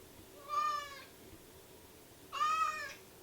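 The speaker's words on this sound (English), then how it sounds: "my cat has an opinion on the matter" A cat meows twice, close and clear, with a pause between the two calls, in a quiet room.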